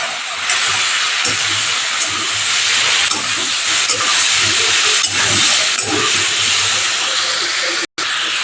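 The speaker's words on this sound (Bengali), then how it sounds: "এই জল দিয়ে দিলাম।" Water hits a hot pan of spiced potatoes being cooked into a paneer curry, giving a loud, steady sizzling hiss that runs almost unbroken throughout, with a brief dropout near the end.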